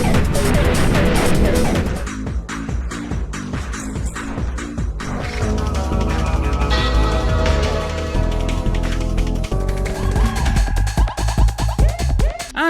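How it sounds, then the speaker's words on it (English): Dense electronic dance music typical of European PlayStation game soundtracks, with a pounding beat, layered synths and a brief breakdown before the rhythm returns, loud and continuous with no voices. "It's why almost every European PlayStation game has a soundtrack that sounds like this."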